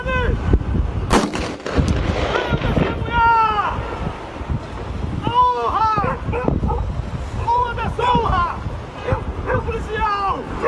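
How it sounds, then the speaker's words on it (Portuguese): Several sharp gunshot cracks ring out amid a noisy outdoor crowd at Farol da Barra, Salvador, Brazil, with shouting voices and wind buffeting throughout. "Os primeiros tiros vão ser disparados agora."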